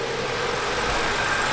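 A BMW E53 X5 SUV engine idles steadily with a low, even rumble, heard close and alone with no voices.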